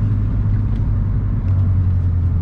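Manual-swapped Subaru SVX pulling hard in second gear, a loud, steady low engine drone heard from inside the car that rises slightly in pitch partway through.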